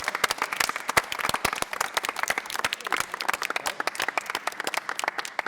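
A team of performers in a collective creation applauding themselves: vigorous, uneven clapping from a small group, close and lively, with rapid individual claps standing out throughout.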